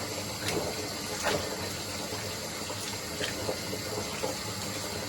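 Boiled food sits in a sieve as water drains and trickles through it, a steady soft splashing wash with a few faint clinks, fairly quiet and close.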